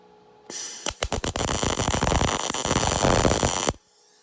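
A MIG spot weld on a patch panel during rust repair of a Volvo 1800ES, opening with a few short sputtering pops, then a loud crackling buzz for about three seconds before cutting off abruptly, close-up.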